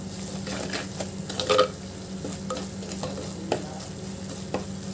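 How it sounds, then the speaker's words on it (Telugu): Masala frying in a pan for a fish curry: a steady, fairly quiet sizzle with intermittent scraping stirs and a few soft knocks. "ఇప్పుడు ఇలా ఫ్రై అయ్యేటప్పుడు మనం ఈ మసాలా అంతా వేసి కొంచెం మనం ఫ్రై చేసుకున్నాము."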